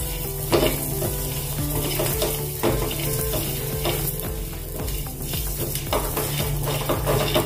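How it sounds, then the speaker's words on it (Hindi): Raisins roast in a pan for coconut laddu, crackling and sizzling steadily up close, with repeated stirring scrapes and light clinks from a utensil against the pan, and no voices. "थोड़ी सी हम डालेंगे इसमें किशमिश। अच्छे से इसको भून लेंगे।"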